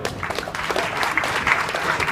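An audience claps steadily throughout, a dense, continuous burst of applause.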